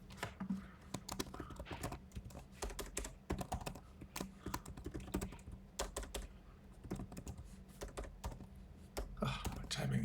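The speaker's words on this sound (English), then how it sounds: "Oh, my typing's bad today." Rapid, uneven clatter of typing on a computer keyboard, close and steady throughout, the keystrokes coming in dense bursts with brief pauses between.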